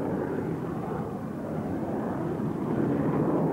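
A military jet with two stubby wings, armed with Cormorant missiles and flown by the German Navy, roars past at an RAF Mildenhall airshow, a loud continuous broadband engine rush that swells slightly toward the end.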